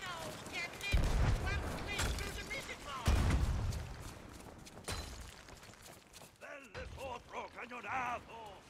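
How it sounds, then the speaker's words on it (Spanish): Cannon fire in the pirate video game Sea of Thieves: two heavy, booming blasts about two seconds apart, followed by creaking, mechanical clatter and game voices. "¡Alto cañonazo!"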